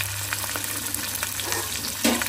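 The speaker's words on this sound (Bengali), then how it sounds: "ইলিশ মাছের ডিম, হ্যাঁ ইলিশ মাছের ডিম ভাজা" Hilsa fish roe frying in a home kitchen, a continuous crackling sizzle with scattered sharper pops and a low steady hum beneath, no talking.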